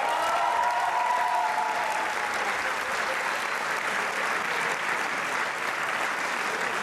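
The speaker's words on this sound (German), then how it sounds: "Danke für den Applaus" Steady, dense applause from an audience at a carnival club show fills the room for about seven seconds, loud and even throughout, with no voices standing out above the clapping.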